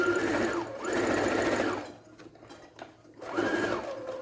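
A sewing machine stitches a seam on fabric for a beginner's Emília rag doll, running in two steady buzzing bursts separated by a short pause with light handling, then starting up again, close and clear.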